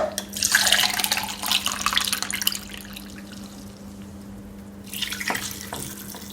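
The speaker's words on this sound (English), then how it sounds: "So now I'm gonna add my water." Water pouring from a tap into a cooking pot for Jamaican red peas beef soup with chicken feet, a loud splashing rush for the first few seconds that eases into a softer trickle before a brief renewed splash near the end.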